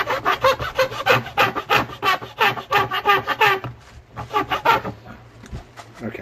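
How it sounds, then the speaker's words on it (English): Sandpaper held down and slid back and forth over a wooden guitar neck tenon during an ES-335 style build: rhythmic, close, scratchy rasping strokes in a steady back-and-forth pattern that ends in a short pause. "I just held this piece of sandpaper down and slid back and forth"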